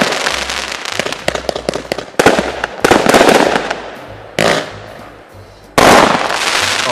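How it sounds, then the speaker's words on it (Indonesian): Loud ball firecrackers explode in bursts, first rapid cracks, then several separate blasts with short pauses between them, close by. "Kali ini petasan bola top."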